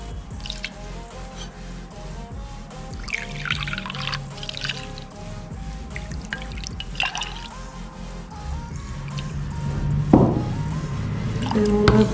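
Water is poured into a ladleful of ground rice batter for palappam, a pouring and dripping trickle that rises into a louder splash near the end, with background music throughout.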